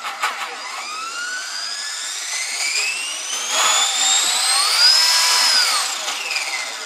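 A small electric rotor of an RC model helicopter, a SOLO PRO 228, whines steadily, its pitch rising as it spins up and then easing slightly, close and fairly loud with no voices.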